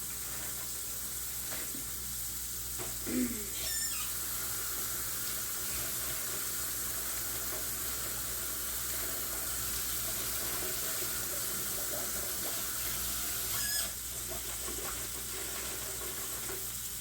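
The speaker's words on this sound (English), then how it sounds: "While I'm washing my hands, I'm going to wash this bag that I had the hamburger package in." Water runs steadily from a kitchen tap while hands and a plastic bag that held hamburger packaging are washed beneath it, a soft continuous hiss and splash with brief louder bumps, no talking.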